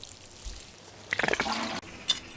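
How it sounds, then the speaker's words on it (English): Water pours briefly from a can onto potted dianthus plants, a short close splashing burst over a quiet background. "Before planting out, give the plants a good watering."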